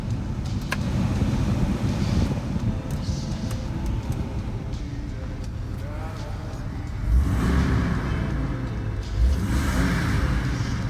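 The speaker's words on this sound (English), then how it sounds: "That engine sounds very healthy." A salvage auction car's engine runs steadily with a low rumble, swelling briefly twice as it revs, with wind noise over the microphone.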